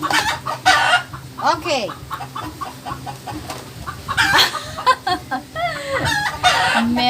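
Chickens cluck repeatedly and a rooster crows nearby, loud and close, with bursts of calls spread across the clip; a person speaks briefly.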